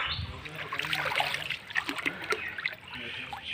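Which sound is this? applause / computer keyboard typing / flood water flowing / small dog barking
flood water flowing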